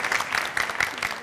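Studio audience applause on a Turkish family game show as the Blue Hearts team is sent off, a dense wash of clapping that stays constant and fairly loud throughout.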